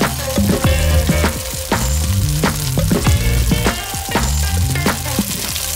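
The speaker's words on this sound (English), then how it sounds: "by letting it just sit and cook on one side, it gets that nice brown crispy sear that we're going for" Tofu searing in a hot pan gives a loud, continuous sizzle, with repeated sharp pops and crackles throughout.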